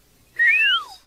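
Cartoon character whistling a short melodic phrase, a single clear rising-then-falling whistled note line lasting under a second, close and alone against a quiet background.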